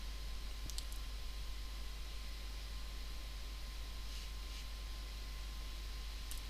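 A single computer mouse click on an Install button, a brief sharp tick near the start over steady faint hiss, with one or two more faint clicks later.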